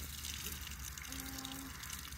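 Water from a hose spraying and splashing outdoors on a sunny winter day, a steady close gushing hiss that runs unbroken throughout with no talking.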